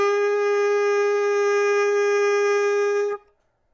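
A saxophone mouthpiece fitted with its neck sounds one steady, loud, buzzy low-pitched tone held for about three seconds, then cut off abruptly, with no talking.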